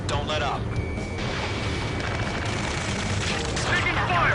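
Gunfire in the video game Ace Combat 7, heavy continuous rumbling bursts of shooting and booms, with voices calling out over the din.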